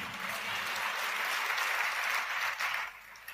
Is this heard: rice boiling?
no